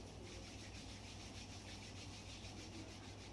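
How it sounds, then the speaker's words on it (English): Palms rub together steadily in a continuous soft brushing hiss during a yoga session, close and quiet, with no talking. "Rub your palms in each other"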